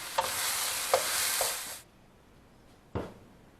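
Filling for vegan stuffed bell peppers is stirred in a bowl, a steady close scraping and rustling swish with a few knocks, stopping abruptly, then one more short scrape after a pause.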